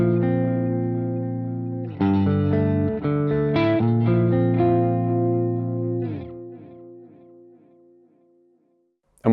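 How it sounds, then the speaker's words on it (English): An electric guitar plays a melodic phrase through a delay pedal with the mix turned down, so the repeats are subtler and sit under the clear dry notes. The sound is loud and sustained, then fades into a short tail that stops abruptly. "I could choose to have a subtler delay effect by bringing the mix down."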